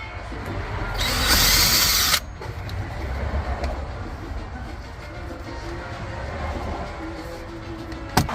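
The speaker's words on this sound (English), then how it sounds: "we're going to remove this little screw right here on the silver part here." Power screwdriver whirring briefly to remove screws from the silver dash trim of a 2004 Mercedes SL500, a single loud burst of about a second, then a quiet cabin with faint handling noises.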